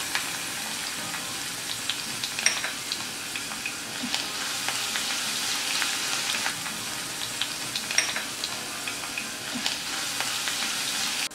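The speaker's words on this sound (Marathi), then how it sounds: "तेल तापलेलं आहे, त्यात आपण 4 लसणाच्या पाकळ्या ठेचून घालूया।" Crushed garlic cloves fry in hot oil in a kadhai for a Goan prawn curry, a steady, close sizzle with crackling pops throughout and no voices.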